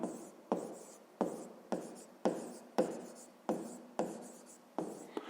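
Pen on paper while writing out a maths exercise: a series of short scratchy strokes, about eight of them in a steady rhythm, close and quiet, with no voice over them.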